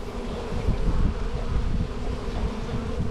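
A dense, steady swarm of bees buzzes loudly and close by around honeycomb being cut away, the drone continuous and unbroken with no speech.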